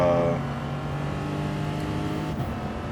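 Racing car engine in GT Sport, loud and steady near the listener with a sustained harmonic drone, then a brief blip and drop in pitch near the end as it shifts down a gear or two.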